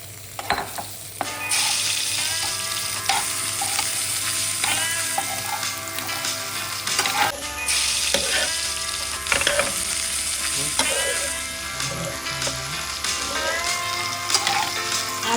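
Boiled potatoes stir-fried in a pan with cumin, salt, red chili and amchur: steady close sizzling and frying throughout, with repeated scraping and clattering of a spoon stirring against the pan, no talking.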